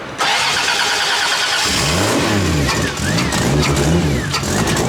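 A BMW E46 wagon's swapped Toyota 2JZ engine cranks and catches, then settles into a rumbling idle with a few revs, heard up close with some voices underneath.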